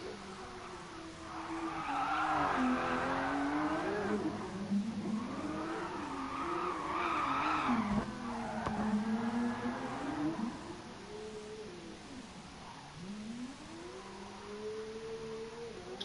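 A drifting car in GT Sport on the Nordschleife, tires squealing in long wavering screeches over a revving engine, with the skid rising and falling across several slides before easing off toward the end.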